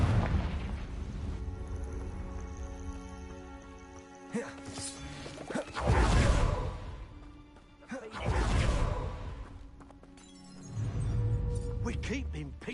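Confringo fire spell explosions in Hogwarts Legacy, several booming blasts at about four, six, eight-and-a-half and eleven seconds, rising out of a steady backdrop of game music and ambience.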